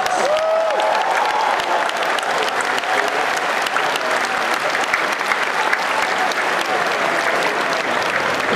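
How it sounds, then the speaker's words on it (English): Loud, sustained applause from a large convention crowd at BlizzCon 2011's opening, dense clapping filling the hall steadily throughout, with a few faint whoops early on. "Please give yourselves a round of applause."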